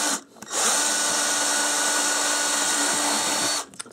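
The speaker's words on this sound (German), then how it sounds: "jetzt fange ich an, einfach hier mit dem 3 mm zu bohren." A power drill whines steadily for about three seconds as it bores a 3 mm hole into wood, starting and stopping abruptly, loud and close.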